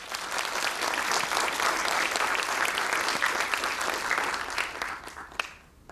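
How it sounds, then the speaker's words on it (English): Sustained audience applause fills a public theology lecture hall, dense and steady clapping from a large crowd, fading out near the end. "Let's give a big applause to it."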